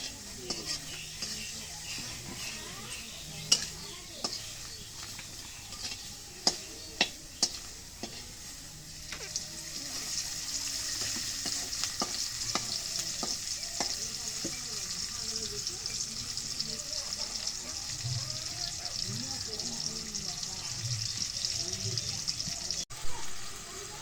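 Chopped onions sizzle in hot oil in a wok, with a steady crackling hiss under scattered clinks and scrapes of a utensil against the pan. It is moderately faint, and a voice speaks quietly at times.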